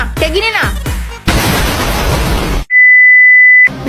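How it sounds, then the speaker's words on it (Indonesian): Gas blast destroying a house: a loud, noisy burst of broadband roar follows voices and a sliding tone, then cuts to a steady high electronic beep alone before sound resumes. "sebuah rumah meledak di daerah Jalan Aman Tentram"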